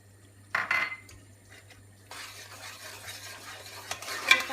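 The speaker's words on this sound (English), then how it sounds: "Give that a good stir" A spoon stirs fried spices with coconut and almond powder in a pot, with a few clinks and scrapes of utensil against metal, then a faint sizzle.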